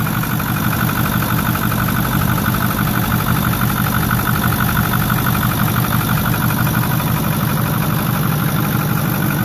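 A 2008 Ford F-350 Super Duty single-cab truck idles with a steady, even engine rumble, close and continuous with no talking.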